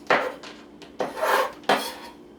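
Knife slicing food for a fried Sunday dinner, three distinct rasping cuts spaced roughly evenly, close and moderately loud, with faint scraping between strokes and no talking.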